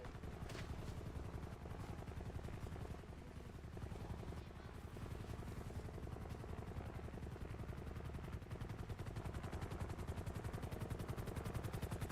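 A helicopter's rotor chops in a steady rapid beat throughout in GTA Online, sounding close and continuous, with no talking over it.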